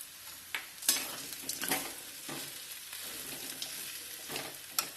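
Capsicum and peanuts fry in a pan, a steady sizzle broken by scraping stirs and sharp bursts of crackle, heard close with no voices.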